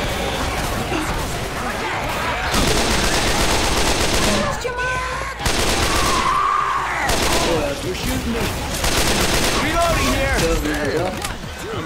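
Rapid bursts of gunfire from Left 4 Dead 2 co-op play, loud, dense volleys that stop and start across the stretch, with players' voices talking under and between the shots.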